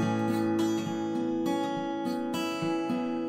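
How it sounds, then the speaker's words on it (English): Guitar plays a triplet arpeggio, plucked notes rolling in a steady three-note pattern across a few chord changes, clear and close with no talking. "the triplet arpeggio is going to sound like this"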